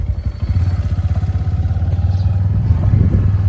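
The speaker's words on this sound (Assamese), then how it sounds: "এতিয়া গৈ আছোঁ বাইকেৰে" A motorcycle putters along a busy road with a fast, even pulsing exhaust beat. It is loud and close, and the rhythm holds steady with a slight rise near the end.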